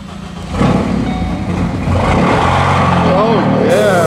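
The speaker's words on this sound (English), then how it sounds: "Let me show you what a real car sounds like." A Ford Focus ST engine revs hard from close by, jumping loud after a quiet start and holding a strong, rising roar as a voice talks over it.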